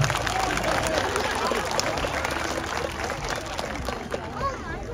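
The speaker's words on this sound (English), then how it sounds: "A big round of applause for Zana." Audience applause fills a sea lion show at Blackpool Zoo, a dense, steady wash of clapping from a crowd that holds at even loudness throughout.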